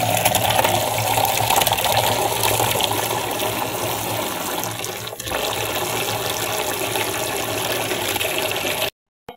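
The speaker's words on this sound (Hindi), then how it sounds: "ये चीज़ें डाल के इसमें हम पानी शामिल कर देंगे।" Tap water gushes steadily into a bucket holding vinegar and cleaning ingredients for washroom cleaning, a loud, continuous close-up pour that wavers briefly midway and then cuts off abruptly near the end.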